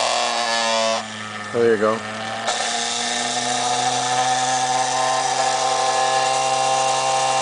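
Pulse motor rotor with two coil winds of 12 turns each, spinning at about 9,000 RPM: a steady, close, humming whine with layered tones, briefly broken by a short spoken remark.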